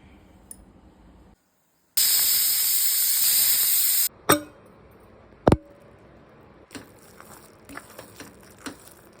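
A pressure cooker cooking sambar rice lets out a loud, steady hiss of steam for about two seconds, followed by a couple of sharp clicks and faint kitchen ticks.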